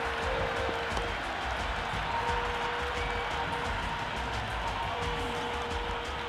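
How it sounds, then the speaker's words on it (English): Cricket crowd at a Peshawar Zalmi vs Lahore Qalandars PSL match, a steady loud roar of cheering and scattered applause that carries on without a break. "The crowd are really getting quite raucous."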